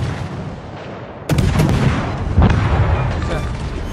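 A sudden heavy shell explosion in World of Warships bursts in after a quiet rumble, followed by rolling blast noise and a second thump, loud and close.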